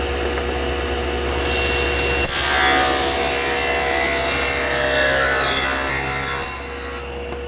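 A table saw rips through a wooden board: a motor hums steadily, then the blade bites in with a loud, harsh, continuous cutting rasp for several seconds before easing off near the end.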